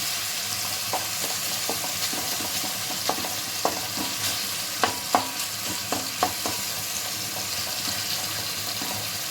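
Spiced masala for a brinjal and fish curry fries in a pan while a spoon stirs it, steady sizzle underneath with scattered clinks and scrapes of the stirring, close and fairly loud.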